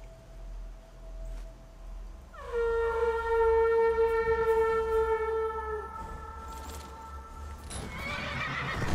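Horses in the video game Skyrim whinny in a long, loud call over a steady outdoor ambience, followed by softer hoof sounds and movement toward the end.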